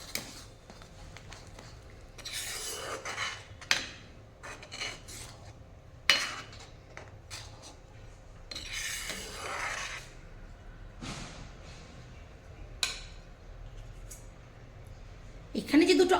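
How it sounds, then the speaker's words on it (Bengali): Coconut milk sauce for chicken masallam stirred continuously in a pan, intermittent scraping and rubbing strokes of a spoon against the pan, close and fairly quiet, with occasional sharper clinks and speech between the strokes. "সব সময় নাড়িয়ে যেতে হবে।"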